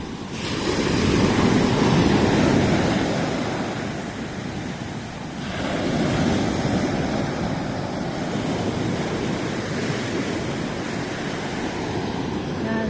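Broad rushing surf rolls in and recedes, a steady wash of breaking waves with some wind buffeting the microphone.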